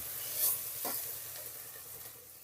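Spice paste with yogurt fries in a pan with a steady, faint sizzle while a spoon stirs it, giving a couple of soft scraping strokes.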